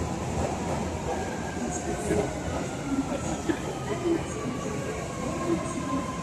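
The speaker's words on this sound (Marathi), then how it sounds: "जपानमधली मेट्रो बघा." Metro train in Japan rumbling steadily along the track, a dense continuous roar with faint squeals and clicks, heard from inside the carriage; a voice is faintly present beneath the noise.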